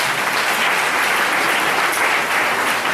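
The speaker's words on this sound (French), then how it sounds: "Nous applaudissons pour le Seigneur" A church congregation applauds for the Lord during a prophecy service, a dense, steady wash of clapping filling the whole moment at close range without a break.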